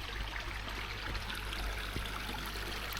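Water pours steadily down a koi pond waterfall outdoors, a continuous close rushing and splashing with no talk over it.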